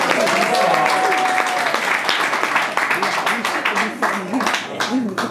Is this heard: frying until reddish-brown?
no